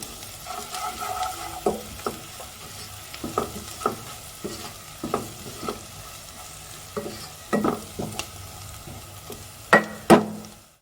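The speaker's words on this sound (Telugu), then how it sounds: "పసుపు వేసాక మరొకసారి కలిపేసుకుందాం" Mutton curry is stirred in a pan after turmeric goes in, with repeated scraping strokes about once a second over a soft frying sizzle, close and with no talking.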